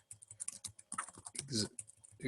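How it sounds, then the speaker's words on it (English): Fingers clatter over a computer keyboard in quick, uneven bursts of close keystrokes, with a heavier press near the middle and faint speech in the background. "So I'm gonna start typing in the changes that I'm making."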